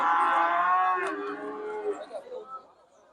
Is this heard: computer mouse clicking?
no